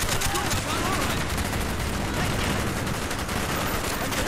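Dense, continuous automatic gunfire sounds through the clip during Call of Duty: Black Ops gameplay, with a player talking faintly underneath.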